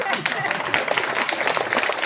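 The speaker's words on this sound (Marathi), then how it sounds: "टाळी कशी वाजली पाहिजे." Audience at a Shiv Jayanti festival kirtan clapping together, a brisk, fairly even run of many hands, loud and close for a couple of seconds.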